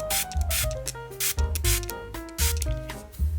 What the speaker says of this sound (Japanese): 上からスプレーで水をかけます。